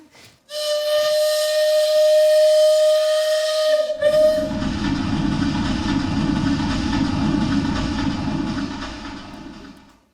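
A steam train whistle sound effect for a stage comedy gag blows one long, loud, steady tone, then gives way to a rushing, chugging train rumble that slowly fades.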